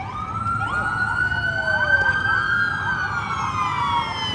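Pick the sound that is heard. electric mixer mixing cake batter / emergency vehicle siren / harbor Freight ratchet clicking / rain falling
emergency vehicle siren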